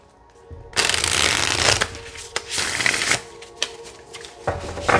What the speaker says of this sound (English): So I'm going to shuffle these again and see if I can get them to stop sticking together.